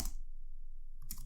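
Keys clack on a computer keyboard while an answer is entered into a web form: a short burst of taps at the start, a quiet gap, then another cluster of clicks near the end.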